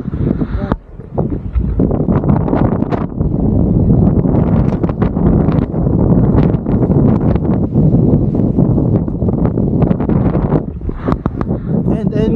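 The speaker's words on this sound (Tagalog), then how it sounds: "napakalakas talaga ng hangin" Strong wind at Crescent Head, New South Wales, buffets the microphone continuously in loud, rough gusts, with talking under the roar.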